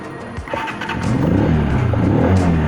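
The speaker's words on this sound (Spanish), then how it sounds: "ahí la moto prende" An AKT TTR 125/150 motorcycle with a weak-spark ignition fault starts up after a brief crank, then runs at a steady, close idle-to-revving drone.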